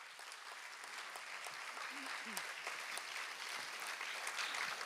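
Audience applause for a bhajan at a women-performed Lav-Kush stage play, a steady continuous patter of many hands clapping from a crowd, moderately distant and even throughout.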